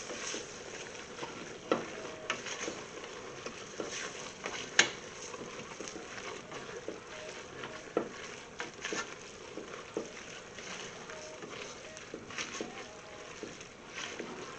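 Meat and cooked vegetables are stirred together in a pan, a steady close sizzle and scraping shuffle broken by scattered light clinks and taps.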